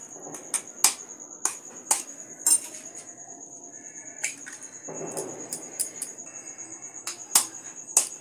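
Eggs cracked one after another into a bowl in a home kitchen while making flattened-rice pulao, heard as a series of sharp, close clinks and taps spaced a second or so apart, with a soft shuffling patch in the middle.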